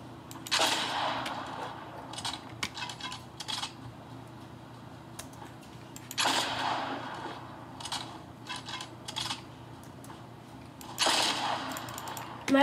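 Rapid bursts of gunfire from a weapon in the video game Fortnite, with several loud automatic volleys separated by short pauses and some metallic clinks between them.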